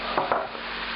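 Pork meat browns in a hot pan for a French daube-style empanada filling, giving a steady close sizzle with a couple of soft scraping stirs.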